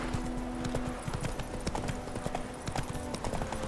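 Horse hooves clip-clop steadily in The Witcher 3 video game, a rapid, even rhythm of close hoofbeats over a continuous background of game ambience.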